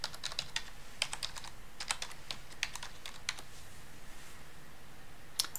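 Fingers typing on a computer keyboard in quick bursts of close, crisp key clicks separated by short pauses, over a faint steady room hiss.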